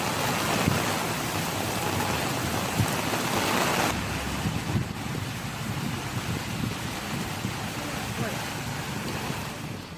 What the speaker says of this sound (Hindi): और पानी है कि बरसे ही चला जा रहा है।